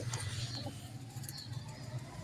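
Banded pigeons cooing in low repeated throaty pulses, with faint patter and bird noise around them, fairly soft and without talk.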